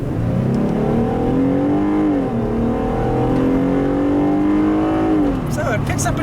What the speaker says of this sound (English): turning out onto a main road here, let's see how the acceleration is in the Gladiator